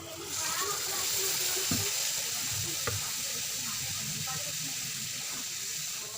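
Jaggery and water sizzle in a hot pan while peanut chikki is being made, a steady, fairly loud hiss that runs the whole time with a couple of brief clicks.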